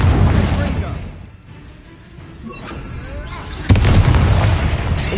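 Spell blasts from the Confringo explosion spell in a Hogwarts Legacy tomb fight, loud booming bursts with a sharp renewed blast near the end, over constant combat rumble.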